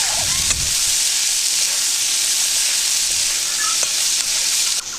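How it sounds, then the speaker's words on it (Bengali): Onions frying in oil in a wok while a Bengali lote fish mash is being cooked: a steady, close sizzle that fills the scene evenly from start to finish, with no talk. "তো পেঁয়াজ ভাজা ভাজা হয়ে গিয়েছে"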